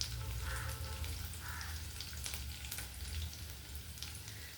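Chamadumpa (taro root) pieces fry and roast in a pan, giving a quiet, steady sizzle with faint crackles and an occasional stir, and no voices.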